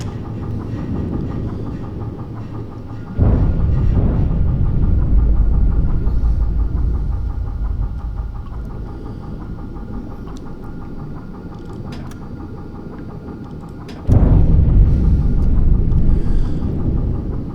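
Steady low throbbing rumble of U-boat diesel engines in a submarine video game, running continuously and loud, with a surge in intensity midway and again near the end.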